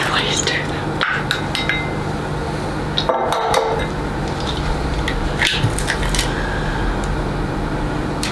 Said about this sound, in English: I'm just going to beat my eggs